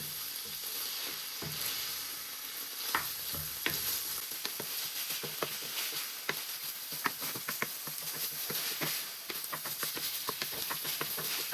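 Passata sauce for sloppy joe burgers bubbles and sizzles over low heat in a pan while a spoon stirs it, soft irregular taps and scrapes over a steady close frying hiss, with no talk.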